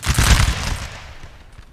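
Line infantry in Napoleon Total War fire a musket volley, a rolling crackle of many shots that swells for an instant and then fades into a distant rumble.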